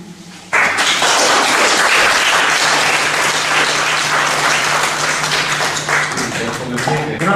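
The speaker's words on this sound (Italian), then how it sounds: "Un applauso ancora a Lucia D'Ambra che stasera abbiamo il piace" Audience applause after a poetry reading at a library event, a loud sustained burst of dense clapping that starts abruptly and fills the room, tapering slightly near the end.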